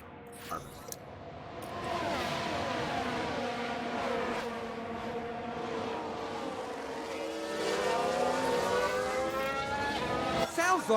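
Race cars in F1 Manager 2022 droning past with layered engine tones that rise and shift as one spins out, continuous and fairly loud from start to finish.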